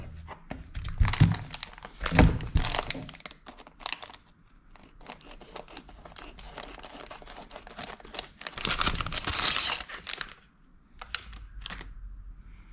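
Plastic bag crinkles and rustles in bursts as it is handled up close, with a couple of sharp crumpling peaks and quieter pauses between.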